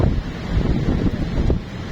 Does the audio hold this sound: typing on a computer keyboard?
no